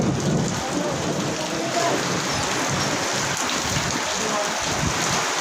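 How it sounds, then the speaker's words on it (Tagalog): Steady, loud downpour hisses continuously, with a low rumble underneath, like a heavy rainstorm drumming on nearby surfaces. "Malakas nga guys ng ulan."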